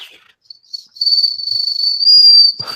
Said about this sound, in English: It sounds like a real turbo. That's what turbos sound like, just like a whistle.